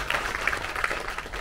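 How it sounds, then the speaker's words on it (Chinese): Guests at a Guangzhou–Hong Kong–Macau science teachers' exchange gathering are welcomed with clapping from the audience, a continuous moderate ripple of hands with a few sharper claps, heard in a room. "让我们再次以热烈的掌声欢迎各位的到来"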